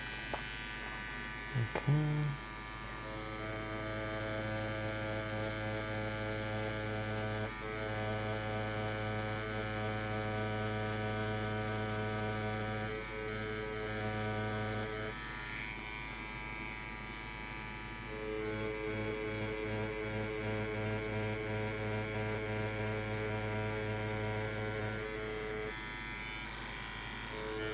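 A tattoo machine buzzes steadily and close for the whole stretch, a constant electric hum with small shifts in pitch as the needle works, and a brief spoken word near the start.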